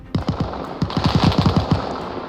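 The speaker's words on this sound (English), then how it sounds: "Line firing across the runway." Bursts of automatic gunfire in the video game Arma Reforger, sustained fire across an airfield runway: a rapid string of loud, close shots in quick rhythmic succession with a brief pause, no talk over it.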